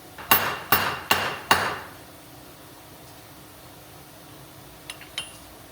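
Four sharp hammer blows drive a part into a transmission PTO pump, metallic and close, followed by quiet room tone and a couple of faint clinks.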